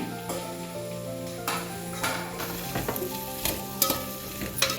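Onions sizzle steadily in a hot pan, with a few sharp scrapes and taps of a spatula stirring at irregular intervals.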